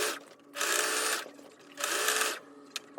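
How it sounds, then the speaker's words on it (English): A sewing machine top-stitches a car seat cover in two steady, close bursts of whirring stitching, each about half a second to a second long, separated by brief pauses with a faint click near the end. "now I'm going to continue to top stitch"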